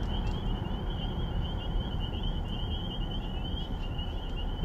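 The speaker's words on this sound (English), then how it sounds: "Listen to the frogs." Frogs call at night along a quiet, car-free country road, a steady high chorus trilling continuously over a dense low rumble of background noise.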